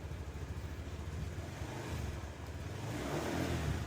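Honda Beat scooter engine idling and revving after brake work on a jammed rear wheel rim, a close, steady low putter that builds slightly louder toward the end.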